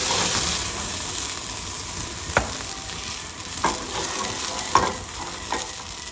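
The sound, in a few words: sliced mushrooms frying in pan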